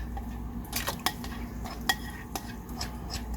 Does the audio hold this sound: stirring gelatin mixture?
yes